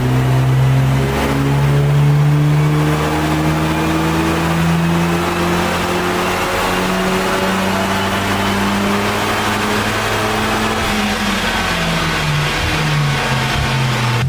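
Tuned Mark 8 Golf GTI engine revving on a dyno at around 300 brake horsepower, a loud, continuous roar with rising and falling pitch sweeps and overrun, close and alone.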